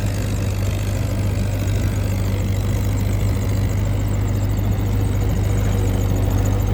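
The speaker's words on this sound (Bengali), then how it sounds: "ইঞ্জিনের ডাক" Old two-wheel-drive Mahindra Shaktimaan 614 tractor pulling a rotavator through deep mud, its diesel engine running at a steady, loud, close drone with a strong low hum and no pauses.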